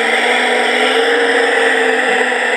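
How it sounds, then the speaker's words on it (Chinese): Excavator and bulldozer machinery plays as a sound effect from a custom speaker sound box: a loud, unbroken engine drone with a steady, rumbling hum and no pauses or voices. "这是那个挖土机、推土机的声音"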